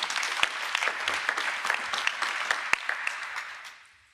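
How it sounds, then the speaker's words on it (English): An audience applauds a district attorney at a New York government announcement, with a few seconds of steady, moderately distant clapping from a crowd that tapers off at the end. "So let's give a round of applause to our district attorney."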